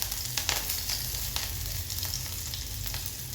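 Green chilies sizzle and crackle steadily in hot mustard oil in a pan, a dense close frying hiss with scattered sharper pops, no voices over it.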